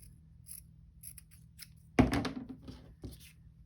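Soft snipping and rustling of scissors working through paper nearby, with a louder cut partway through and scattered quiet clicks.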